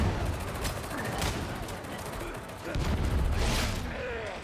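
A grenade blast and rapid gunfire in the game Darktide, with a dense, continuous clatter of shots and low booms that swell midway and stay loud throughout.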